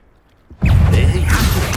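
Stupefy spell cast in Hogwarts Legacy, a sudden loud magical blast bursting in after near silence and sustaining with whooshing, crackling energy.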